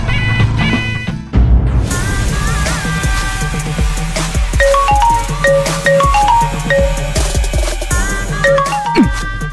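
A phone's ringtone plays over a musical television soap scene: a repeating melodic electronic tune with bright tonal notes, starting after a brief pause and carrying on steadily and loudly.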